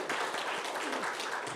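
A church congregation claps together during an Easter service, a short burst of steady, moderately quiet applause with no talking.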